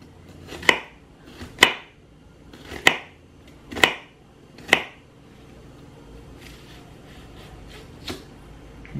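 A knife chops through an onion on a board in five sharp, evenly spaced strikes, then a quieter pause with softer scraping and one more cut, close and clear.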